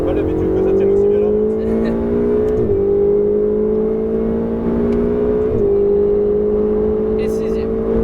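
Loud, steady engine roar of a Ferrari 488 GTB on the Fay-de-Bretagne circuit, rising pitch between two quick gear shifts, holding high revs throughout.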